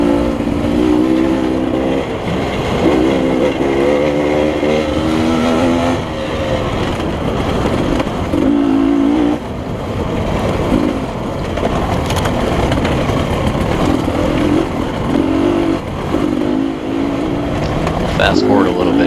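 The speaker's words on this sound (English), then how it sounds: "I can really hear quite a few bikes behind me." Several off-road motorcycles racing on a rocky course at LaCygne, Kansas, a steady droning engine roar that rises and falls throughout, with someone talking over it most of the time.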